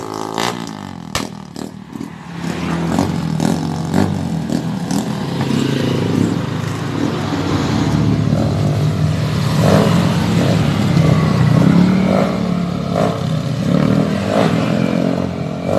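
A Rusi 125 motorcycle engine, freshly tuned up, revs up and holds a loud, rising roar close by, with rattling and scraping over the steady drone.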